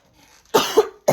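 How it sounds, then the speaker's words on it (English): A person gives two or three sharp, close coughs in quick succession after a near-silent opening, each a harsh burst with a short gap between. "I start coughing."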